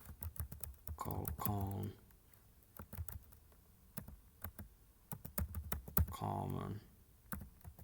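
Rapid typing on a computer keyboard, a dense run of crisp clicks heard alongside someone talking, with brief pauses between bursts.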